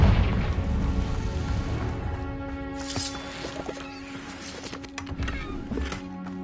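A Confringo fire-blast spell goes off in the video game Hogwarts Legacy. It opens with a booming explosion, then crackles and pops with a few sharp bursts over a lingering rumble. No speech.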